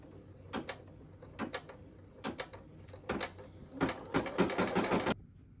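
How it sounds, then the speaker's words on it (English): An embroidery sewing machine stitches an in-the-hoop coaster in short mechanical bursts, first spaced apart and then in a faster run of stitches, close and clear before stopping. "So let's just start stitching."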